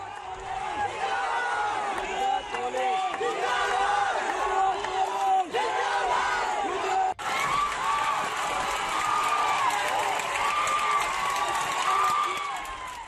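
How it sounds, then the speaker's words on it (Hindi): Villagers in Kheda village chanting zindabad slogans for the police, a dense crowd of voices shouting in rhythmic unison, loud and continuous with cheering mixed in. "यहां खेड़ा गांव में पुलिस के लिए जिंदाबाद के नारे लग रहे हैं"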